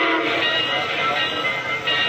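A train at a station platform in a radio drama sound effect, a loud continuous hiss and rumble of the carriages that holds steady throughout without any talk.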